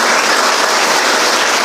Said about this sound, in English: Can you clap once?